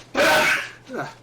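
A single loud, close sneeze from a person with a dust mite allergy, followed by a softer vocal sound, heard indoors during a gaming session.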